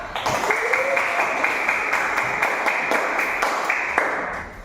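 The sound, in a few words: applause from a class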